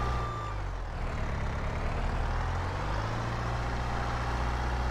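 A skid steer engine in Farming Simulator 22 running loudly and steadily, a deep rumbling diesel drone with slight revving shifts, close and continuous throughout.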